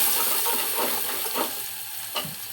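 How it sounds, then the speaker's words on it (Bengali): Lentils with green chilies sizzle steadily in a hot pan while a spoon stirs them in soft, repeated scraping strokes, close and even throughout. "নেড়ে দিব, 3টা মরিচ দিয়েছি আমি।"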